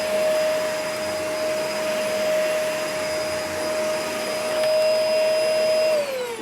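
A vacuum cleaner with a taped-up hose runs close and steady, a loud airy roar with a sharp whine that drops in pitch near the end as it winds down.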